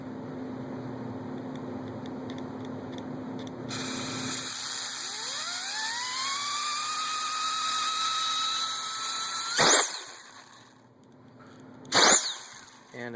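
A Lego turbine power puller driven by compressed air from a hand air gun: an airy hiss, then a whine that climbs in pitch and holds steady, followed by two short, loud bursts of air near the end.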